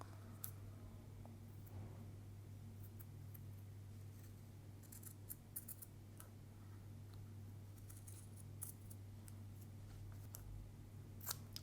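Scissors snip through ultra suede fabric while it is trimmed to match the edge of another piece over a brass cuff bracelet, giving faint, sparse cuts over a steady low hum.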